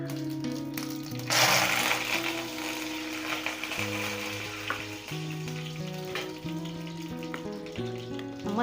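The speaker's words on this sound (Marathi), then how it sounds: "जिरे मोहरी चांगली तडतडली की आपण कढीपत्ता टाकतोय।" Curry leaves hit hot oil after spluttering cumin and mustard seeds, for a Khandeshi patodi curry, bursting into a loud sizzle that settles to a steady frying crackle under light music.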